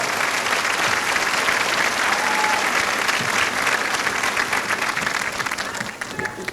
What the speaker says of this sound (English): thank them with a round of applause as well